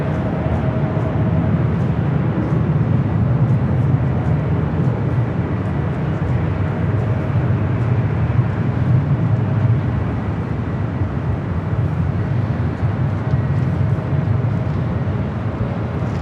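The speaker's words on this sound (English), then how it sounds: "American Airlines Flight 26 coming up from Tokyo Haneda" American Airlines Boeing 787-9 Dreamliner arriving from Tokyo Haneda at Los Angeles airport, a continuous loud jet roar with a thin steady tone, alone without voices.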